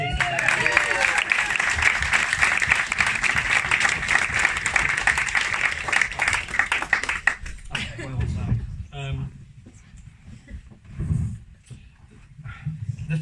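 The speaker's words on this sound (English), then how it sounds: "So a round of applause for all the bridesmaids, please." Wedding guests applaud the bridesmaids, loud, dense clapping for several seconds that fades away into scattered claps, murmurs and voices in the room.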